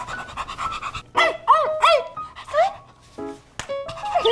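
A person imitating a panting dog, with breathy pants and rising, whiny vocal yelps in short bursts, close and fairly loud, separated by brief pauses.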